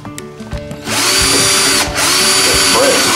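Power drill boring holes into a plastic milk jug, a loud, close, steady high-pitched whine after a brief start-up, with a short dip in speed midway.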